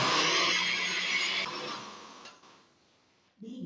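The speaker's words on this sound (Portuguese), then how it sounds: "Aqui eu vou bater porque eu vou bater bem rápido, eu não vou demorar e porque o liquidificador cabe" Electric blender whirring loudly while mixing cake batter for a bolo quejadinha, a steady high motor whine that winds down and stops, followed by a brief clatter.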